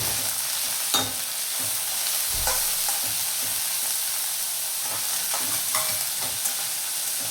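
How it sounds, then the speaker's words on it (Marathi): Green chillies frying in oil for a village-style thecha with salt and coriander, a steady bright sizzle broken by sharp spoon scrapes and knocks against the pan, close and continuous with no talking. "आता तेलात थोडंसं खालीवर करून घेऊया हे"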